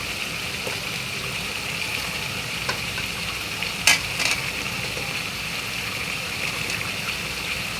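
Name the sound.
meat being stir-fried (kosha) in a pan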